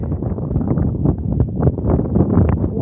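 Gusty wind buffets the microphone in a loud, continuous low rumble that rises and falls, outdoors on a Glasgow street on New Year's Eve.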